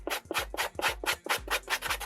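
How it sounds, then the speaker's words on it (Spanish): Coarse 50-grit sanding belt scraped across EVA foam in quick, even back-and-forth strokes, about eight rasping passes in two seconds, close and loud with no voices. "Ahora voy a coger una lija gruesa, esto es una lija 50 de la lijadora de banda."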